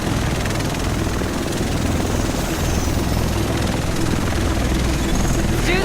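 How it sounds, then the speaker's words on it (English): Helicopter in The Division video game, a steady loud rotor and engine drone filling the scene continuously with no break. "The rest of us should be in this chopper."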